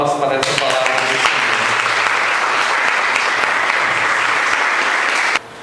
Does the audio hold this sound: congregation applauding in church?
yes